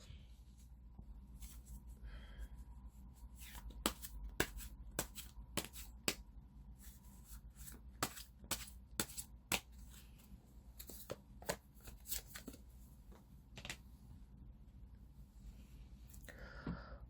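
Tarot cards are shuffled by hand close up and quietly, in a long run of crisp riffling slaps and soft paper rustles with uneven pauses, no voice over them.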